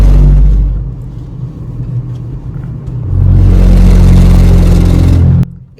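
Car tires drifting onto the rumble strip at the lane edge of the Ganga Expressway, a loud droning vibration over road and engine noise that rises sharply and holds for several seconds before ending abruptly.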